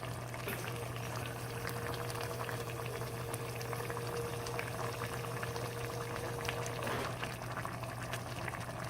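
Filtered water from a fridge poured into a container in a home kitchen while making whole wheat lasagna, a continuous steady trickling and filling sound heard alone for several seconds.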